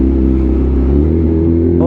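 Idling Yamaha R6 motorcycle on a cool night, its muffler exhaust giving a steady, smooth low rumble close by with no revving, a brief higher whine creeping in at the very end.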